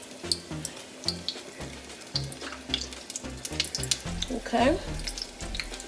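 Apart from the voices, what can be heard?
homemade donut frying in oil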